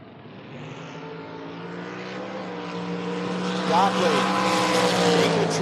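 Drag race cars, one a Camaro, launching down the strip with a rising engine roar that swells and stays loud, a brief squeal or whine partway through, heard over background commentary.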